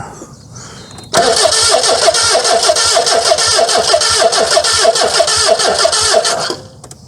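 An old British car engine, left unused for 25 years, cranks hard and fast with a rapid rhythmic chugging from the starter for about five seconds, loud and close, without catching, then stops.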